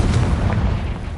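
The Confringo explosion spell in Hogwarts Legacy, a single loud close blast with a low rumbling boom that decays over about a second.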